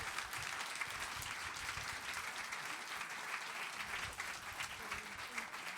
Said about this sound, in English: I'll take that round of applause for the Democrats.